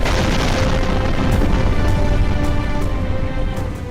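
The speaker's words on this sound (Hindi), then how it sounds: "तभी अचानक जोरदार धमाका हुआ जिसमें 8 से ज्यादा लोग घायल हो गए" A loud explosive boom during a Russian missile attack on Kyiv, a dense rumbling blast that fills the whole clip and slowly tails off, with no voices.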